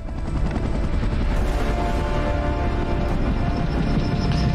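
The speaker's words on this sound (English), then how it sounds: "Yeah, it's an enemy chopper." Loud, dense military helicopter rotor noise from an enemy chopper in the film Top Gun: Maverick, a constant heavy drone mixed with booms and rattling gunfire-like bursts, no talking.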